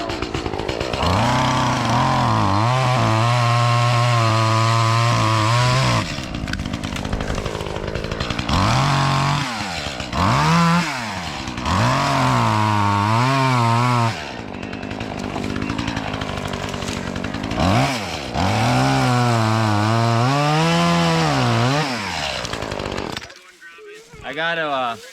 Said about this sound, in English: Takes 30 seconds to start a chainsaw.